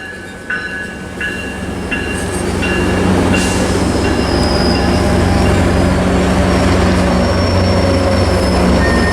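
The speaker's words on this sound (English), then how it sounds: "here comes another Metrolink approaching Fullerton" A Metrolink commuter train rolls through Fullerton station, its rumble building to a loud steady roar of wheels and rail noise, with a few clanking hits at the start and a high squeal running along the track.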